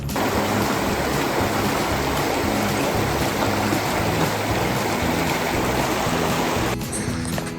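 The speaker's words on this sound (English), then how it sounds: "You can still hear the water." Creek water at Thomas Creek Campground in Lamoille Canyon, Nevada, runs in a steady, dense rush that stays close and even throughout with no voices, thinning slightly near the end.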